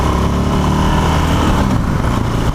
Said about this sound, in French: une petite monocylindre de chez Yamaha, 660 cm3, 48 chevaux.